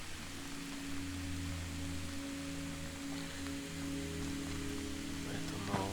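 Steady rain hiss in the video game Road to Vostok fills the scene, a soft constant wash with a low hum underneath and no distinct drops or voices.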